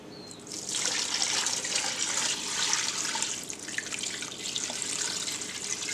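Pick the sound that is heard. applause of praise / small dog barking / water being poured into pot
water being poured into pot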